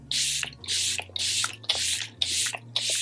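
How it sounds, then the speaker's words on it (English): Six short hissing sprays of makeup setting spray misted onto a face, evenly spaced bursts of fine mist close up, with soft clicks between them. "let me spray my face because it's tight"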